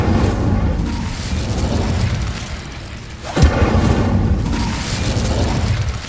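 Incendio fire spell cast in Hogwarts Legacy, heard as a continuous roaring, crackling burst of flame with a sharper boom near the middle, loud and sustained, with no talk over it.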